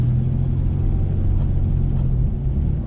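Car engine idling low and rumbling while driving on snow in the North Carolina mountains, throttle eased off and gently reapplied, a steady close drone with no talking.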